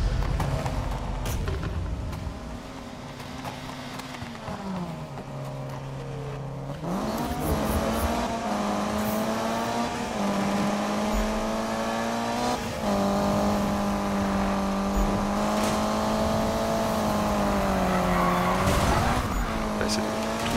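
Race cars in the Need for Speed 2015 video game rev and whine continuously, the engine pitch climbing and dropping through gear shifts with occasional tire squeal, while a French-speaking player talks over the action.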